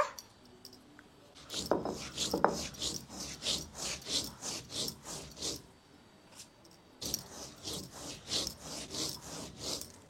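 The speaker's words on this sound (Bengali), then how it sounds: "তা আগে চাল বেটে নেব।" Soaked rice ground by hand on a grinding stone, a repeated rasping scrape in a steady back-and-forth rhythm, close and fairly quiet, pausing briefly midway before resuming.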